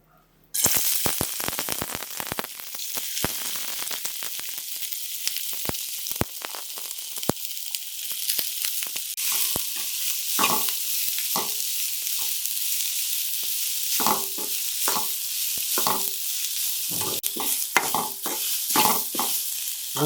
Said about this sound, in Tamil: எண்ணெய் காஞ்சிருச்சு, நம்ம வெங்காயத்தை சேர்த்துக்கலாம்